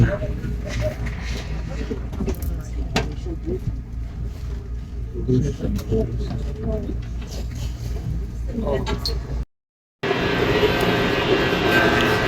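Bullet train running from Makkah to Madinah, a steady loud rushing roar of the carriage at speed with a brief dropout near the end.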